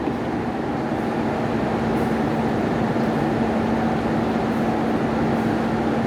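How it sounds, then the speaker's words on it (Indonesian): The Progo passenger train at Purwokerto station in Indonesia, a steady loud rumble with a constant low hum, continuous and close without breaks. "kereta api Progo akan diberangkatkan kembali dari stasiun Purwokerto pada pukul 4:23"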